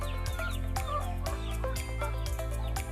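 A pet chicken with a cold clucks repeatedly in short, close, fairly quiet bursts, with no voices.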